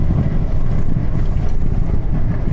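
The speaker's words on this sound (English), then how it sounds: "It's kind of windy out here today." Gusty wind buffeting the microphone at the Laughlin, Nevada waterfront, a loud, dense low rumble that never lets up, with no voices.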